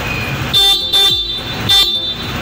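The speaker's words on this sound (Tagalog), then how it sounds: "So, stock horn muna tayo." Stock horn on a Honda ADV150 scooter sounds in three short, loud honks, each a bright flat tone with brief gaps of idle between.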